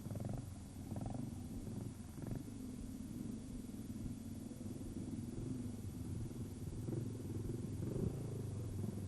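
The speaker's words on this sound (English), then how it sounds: "Martin Adams riding his special Tiger Cup base machine with a homemade frame" A trials motorcycle built on a Tiger Cup base with a homemade frame is ridden at a 1994 championship trial. A low engine drone rumbles steadily throughout, fairly faint and distant, with no talk over it.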